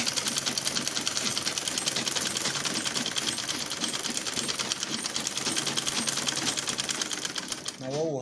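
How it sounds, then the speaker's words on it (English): A sewing machine stitches a shirt at a fast, even rhythm, its rapid mechanical clatter running steadily up close and stopping just before the end. "Watch me while we sew."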